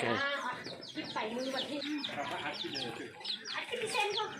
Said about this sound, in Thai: ไก่งามบ่